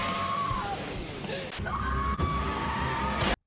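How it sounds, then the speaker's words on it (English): Woman's screams cut from horror movie clips, high, strained yelling with wavering pitch, heard close and loud and edited together with abrupt cuts between them. "my head just hurts from putting her screaming clips together"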